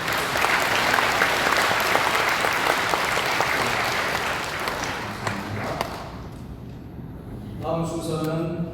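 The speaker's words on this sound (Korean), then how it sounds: "네, 박수로." A room full of people claps warmly, the applause fading after several seconds before a voice starts talking.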